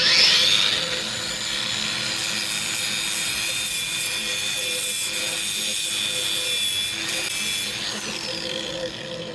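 Slag being chipped and brushed off a fresh stick weld from a Harbor Freight Titanium 225 welder, a steady close scraping and rubbing texture that runs throughout without pause.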